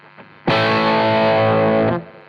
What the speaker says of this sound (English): So here's just the drive channel, no boost.